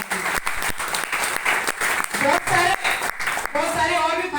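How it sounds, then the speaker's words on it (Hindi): Loud applause from an audience at a gold leader training seminar, dense clapping filling the whole stretch with brief dips, and a voice speaking over it toward the end. "जोरदार तालियां बजाइए"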